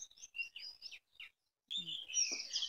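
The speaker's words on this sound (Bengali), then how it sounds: "চারিপাশে ঝিঝি পোকা পাখি ডাকছে" Birds chirp and tweet in a palash forest in Purulia, with quick repeated high calls up close, a brief pause, then a denser, louder burst of bird calls with no talking.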